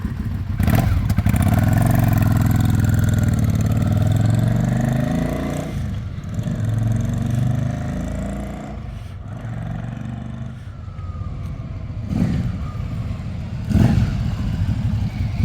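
Vintage motorcycle ridden down a street, its engine running continuously and loud throughout, rising and falling as it is revved and shifted through the gears, with brief dips between pulls.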